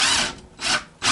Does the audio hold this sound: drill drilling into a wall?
yes